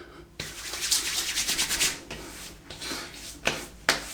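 Aftershave splashed and patted onto the face after a shave with a 1958 Gillette Fatboy razor, a string of soft wet slaps and rubs, close and quiet, with a few sharper claps near the end.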